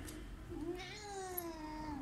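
A cat meows in one long, drawn-out call with a rising and falling pitch, close and clear over a quiet indoor background, with no talking.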